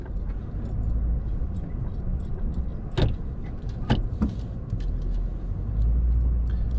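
A vehicle backing out of soft mud, a low engine rumble under steady wind noise, broken by a few sharp knocks and squelches partway through.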